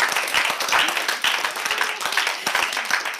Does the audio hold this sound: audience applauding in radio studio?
yes